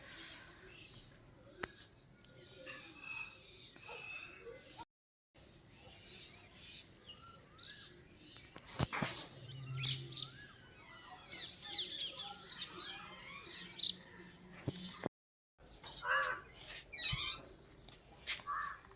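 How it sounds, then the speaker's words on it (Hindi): Small birds chirp and tweet in scattered bursts in the morning in a village in Uttarakhand, against a quiet outdoor background, with brief pauses and a faint low murmur now and then. "चिड़ियों की चहचहाट सुबह सुबह कितनी प्यारी लगती है, मधुर आवाज़"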